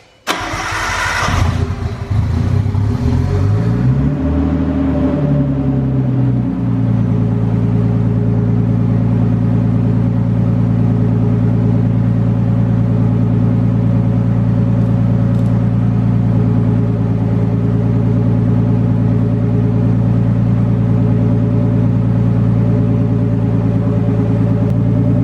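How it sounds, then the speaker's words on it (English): A Nissan R32 with a new turbo and an open downpipe, its exhaust unconnected, cranks and fires up, then settles into a loud, steady, rumbling idle that runs for about twenty seconds with no talking. "I'm gonna start it real quick, open downpipe just for fun, and to check for leaks real quick"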